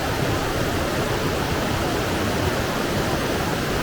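Water cascading down Raven Cliff Falls in South Carolina, a dense, steady roar of falling water that stays loud and unbroken from start to finish, with no voices over it.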